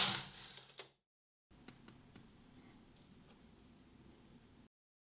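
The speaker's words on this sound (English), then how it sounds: "wrap my yarn around the last needle and knit one row" A knitting machine carriage slides across a row of needles, giving faint clicking and mechanical ticking that runs steadily for a few seconds after a brief louder clatter and a pause.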